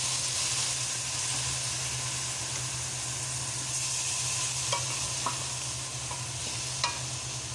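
Shrimp sizzling and frying in a pan while cooking mung bean stew, a steady close hiss with occasional soft stirring clicks and no talk.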